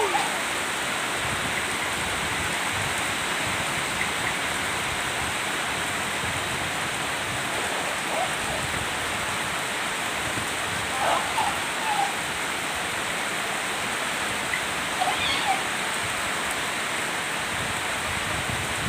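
Heavy rain pours down in a steady, dense hiss with no breaks, broad and enveloping, with a few faint voices and small splashes surfacing briefly above the downpour.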